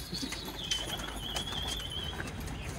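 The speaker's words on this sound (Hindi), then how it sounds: "अभी जो है दोस्तों अपने उड़ने वाले कबूतर में उड़ाने वाला हूँ" A flying pigeon takes off with a short burst of flapping wings, followed by a faint whistling flutter as it moves off, with no talk.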